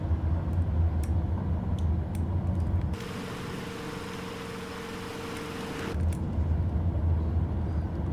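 An ICON A5 amphibious plane rolls along the runway after landing in Microsoft Flight Simulator, with a steady low engine rumble and a broad hissing wash that swells through the middle stretch. No one speaks.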